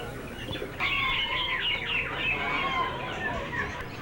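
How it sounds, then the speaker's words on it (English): Chickens and other fowl for sale at the Pasar Nasan bird market in Indonesia cluck and crow nearby over a busy market hubbub, with one bird's call rising prominently partway through. "We ended up in the Pasar Nasan bird market, where many varieties of fowl are for sale."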